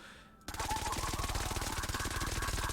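A Candy Corn LMG minigun in Fortnite Save the World opens up against a cliff after a brief quiet moment, unleashing a rapid, steady stream of closely spaced shots that continues unbroken and loud.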